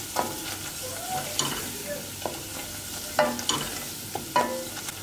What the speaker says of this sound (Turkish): Bir tatlı kaşığı tepeleme dolusu un ekliyorum. Bir iki dakika kavuracağım bu şekilde.